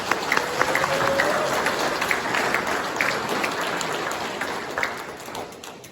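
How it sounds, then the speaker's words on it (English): A banquet audience at the Shadyhill racing opening ceremony applauds steadily, a dense wash of many clapping hands that holds for the full stretch and slowly eases toward the end. "give yourself a big round of applause for that"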